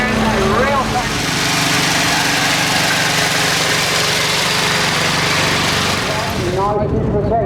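Late-1980s farm tractor with a Q cab, running at a steady, loud idle close by at a country steam fair, a continuous engine drone with a faint voice over it early and late.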